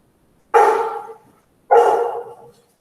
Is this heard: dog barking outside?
yes